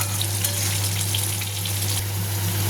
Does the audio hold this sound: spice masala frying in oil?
yes